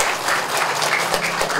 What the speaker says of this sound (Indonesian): Kita beri tepuk tangan yang meriah untuk penandatanganan prasasti ini.